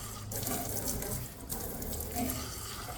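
Steady running water pours from a newly installed Cotora UF water filter as it is flushed, the stream close and continuous throughout with a brief dip midway, like a tap filling a sink, and no voices.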